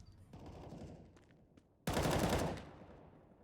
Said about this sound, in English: shots being rattled off through the smoke, nothing quite connecting